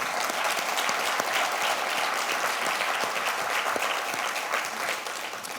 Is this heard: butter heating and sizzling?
no